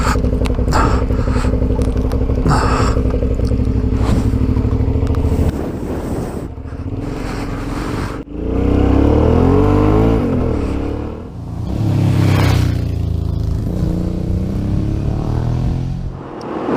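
An adventure motorcycle with a few modifications, loaded with camping gear for an overnight trip to Bright, drones along the road with steady engine roar and heavy wind buffeting. The revs swell noticeably midway, then settle again.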